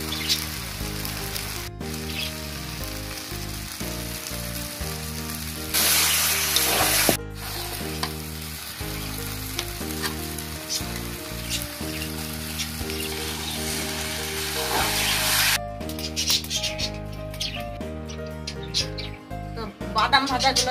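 Gobindobhog rice khichuri frying in a pan with ginger and cumin paste, a steady sizzle running beneath continuous loud background music.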